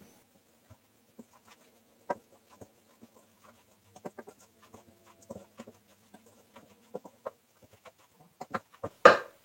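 Grated carrot and zucchini are stirred with egg in a bowl, producing quiet, sparse wet clicks and taps of a utensil in uneven rhythm, ending with a louder scrape.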